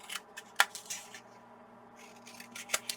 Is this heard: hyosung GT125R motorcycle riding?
no